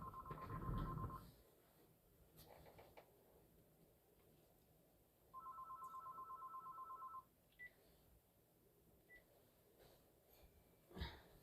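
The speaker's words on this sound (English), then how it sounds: "The phone." A telephone rings indoors in two bursts of rapid electronic trilling, one at the start and a longer one midway, clear above a quiet room.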